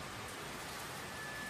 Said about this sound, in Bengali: কি জোরে বৃষ্টিটা নামলো দেখেছেন।